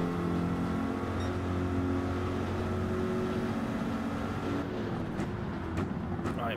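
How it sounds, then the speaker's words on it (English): A BMW M6 race car engine in Gran Turismo 7 drones at steady revs as a loud, continuous harmonic hum, then eases off near the end. "The M6 as well, look, very, very popular car around here."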